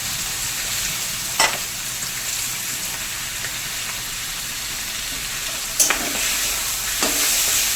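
Fish fries in hot oil in a pan with a constant close sizzle, broken by a few sharp clinks or stirring knocks.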